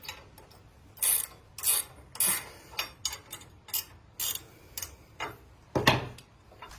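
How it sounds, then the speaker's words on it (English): A small gear drive ratcheting wrench clicking on a motorcycle exhaust during a Samson Cholo fishtail install on a 1995-2006 Harley Softail: a quiet series of rapid ratchet clicks in short bursts, close up, with no talk. "These little gear drive wrenches are great for this kind of stuff."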